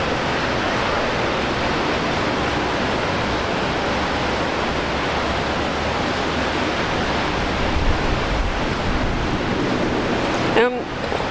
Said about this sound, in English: currently Brisbane Airport is experiencing strong winds.